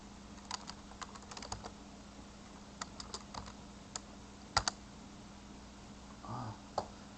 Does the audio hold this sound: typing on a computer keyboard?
yes